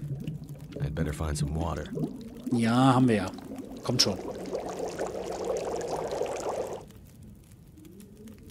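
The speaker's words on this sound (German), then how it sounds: "Wir werden erstmal ein bisschen Wasser kochen." Water pouring into a pot to boil in The Long Dark survival game, a splashing fill sound lasting several seconds mid-clip, partly under someone speaking German before it.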